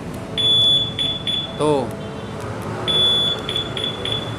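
A two-way car alarm unit emits a series of short, high electronic beeps in quick groups while its sensitivity level is being set, with someone talking between the bursts.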